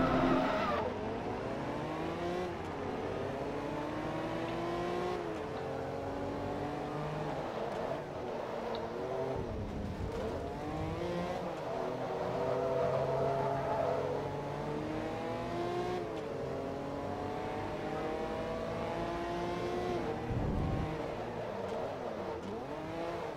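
A Honda NSX race car engine in the racing game Forza Motorsport 2 revs and shifts through gears continuously, rising and falling in pitch with repeated up-shifts, loud and steady for the whole stretch with no talking.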